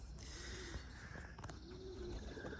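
Young training pigeons coo softly in their crates, a faint low burbling under a continuous background hum, heard at some distance with no other voices.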